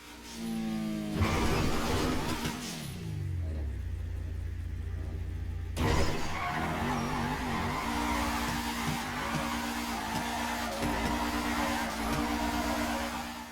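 Car jump drifting in GTA 5, engine revving and droning as tires squeal and skid through a long slide, with a sudden landing rumble partway through and the loud engine note carrying on afterward.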